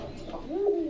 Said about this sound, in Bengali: কবুতর ডাকবি ভালো লাগবে, দেখবি শুনবি